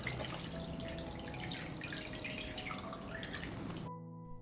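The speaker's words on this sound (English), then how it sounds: "Pour water up to the height of the lid." Water pours steadily from a tap into a pot around glass jars, a continuous splashing rush with faint ringing tones that cuts off abruptly near the end.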